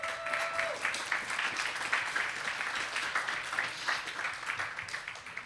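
Alumni at a New York brunch give a round of applause, with fairly soft, continuous clapping from a room of people heard at some distance for the whole stretch.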